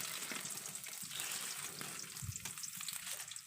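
Chopped garlic and onion frying in mustard oil in a pan, giving a soft, steady sizzle with faint crackles and occasional stirring scrapes, close and fairly quiet, with no voices.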